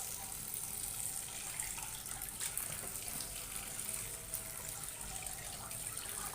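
Chopped cabbage is washed under a running tap, giving a steady, close hiss and splash of flowing water that continues evenly from start to finish with no talk.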